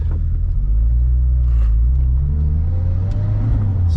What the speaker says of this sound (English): Oh, nice little turbo noises.